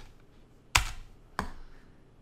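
Two crisp, separate keystrokes tap on a computer keyboard, close and fairly quiet, spaced about half a second apart over a faint background hiss.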